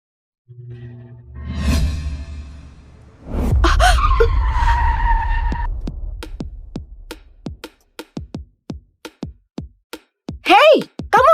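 A car speeds in with a rising engine whoosh, then brakes hard with a loud skid and tire squeal right in front of someone standing on the road, followed by a gasp and a series of sharp thumps.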